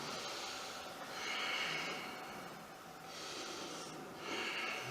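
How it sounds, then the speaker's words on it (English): Slow, deep breaths in a yoga forward fold (Uttanasana) come up close and fairly quiet, two long airy inhale-exhale cycles rising and falling, with one slightly nasal, snort-like edge. "we'll take a deep breath"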